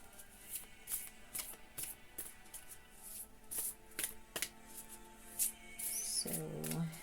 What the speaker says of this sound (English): But I like the way it glides when you shuffle then